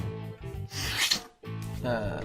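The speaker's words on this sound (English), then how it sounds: "Got a sneeze coming" A single sneeze bursts out close up, with a sharp breathy spray between soft voiced sounds, a short gasp and nasal exhale around it.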